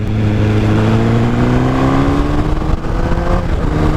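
A motorcycle engine revs loudly up close during a clutchless upshift, its pitch climbing steadily, then briefly dipping at the gear change before pulling on.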